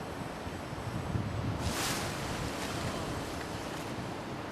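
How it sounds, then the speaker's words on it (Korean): Waves washing onto a shallow seashore with wind, a steady broadband rush with one louder surge of surf midway, fairly close and continuous. "수심이 낮아 배가 들어올 수 없는 바닷가"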